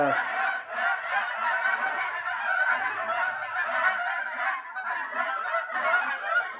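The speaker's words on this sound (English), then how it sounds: "Talking about a flock of geese is what we're talking about." A flock of geese honks continuously, many overlapping calls forming a loud, dense clamor with no pauses.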